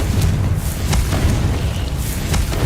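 A Confringo spell explosion in the Hogwarts Legacy video game bursts out as a loud, sustained booming rumble with repeated crackling flares layered over it.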